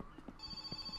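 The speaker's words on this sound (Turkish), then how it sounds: "Aha, telefon çalıyor." An old landline telephone rings inside the house in the game My Summer Car, a bright sustained bell tone starting partway through, heard clearly over faint background sounds.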